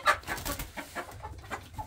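Several chickens, including an older hen, clucking in short irregular bursts close by, with soft scratchy farmyard noise between the calls.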